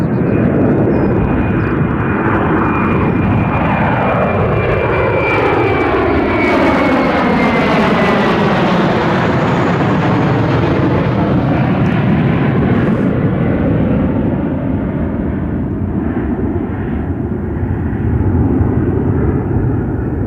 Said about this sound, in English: I can also show you this departing aircraft.